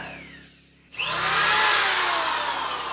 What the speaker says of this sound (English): this is actually the first time I've used a drill before